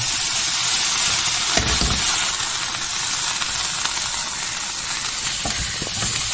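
Drumstick (moringa) leaves wilting in a hot pan, giving a steady close sizzle and hiss throughout, with a few soft stirring knocks and no talking.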